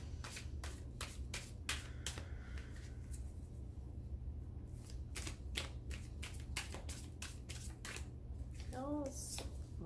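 Tarot cards shuffled by hand, quick papery riffles and taps in irregular bursts, close and fairly faint, with a brief voice near the end.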